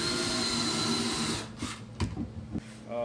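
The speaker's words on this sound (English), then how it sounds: "what I like to do after I drill my hole is countersink it" A power drill whines steadily while drilling and countersinking a hole for a drywall screw with a countersink bit, then stops, followed by a few short knocks and handling bumps.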